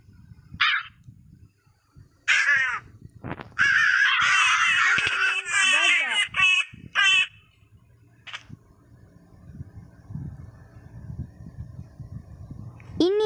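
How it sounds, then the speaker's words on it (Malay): Black crows caw in a rapid burst of harsh, loud calls close by, then fall silent with only faint outdoor background remaining. "Ini adalah gagak yang berwarna hitam."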